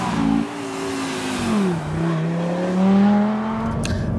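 A Mk1 Lamborghini Gallardo Superleggera driving, its engine droning loud and close, dipping briefly, then climbing in pitch as it revs and pulls hard, with road and wind rush underneath and no talking.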